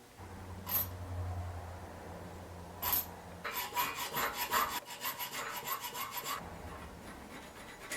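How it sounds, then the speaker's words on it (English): Hacksaw cutting into a metal bar, a close, quiet run of rapid rasping strokes after a couple of isolated scrapes, stopping near the end. "So what I'm first going to try to do is cut with a hacksaw this way as much as I can"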